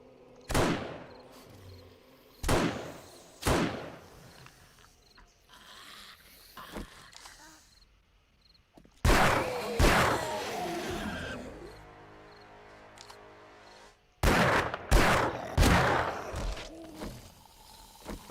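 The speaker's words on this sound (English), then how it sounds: "let's go ahead and pull out the old marksman's rifle." Marksman's rifle shots in the video game 7 Days To Die ring out as sharp single reports at irregular intervals, some in tight pairs, with a louder burst of fire partway through, no talking.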